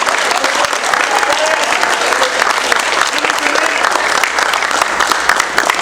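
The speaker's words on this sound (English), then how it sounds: "Everybody give him a round of applause." A high school crowd at East Wake High School in Wendell gives a loud, dense round of applause for a motivational speaker, steady and sustained throughout, with some cheering voices mixed in.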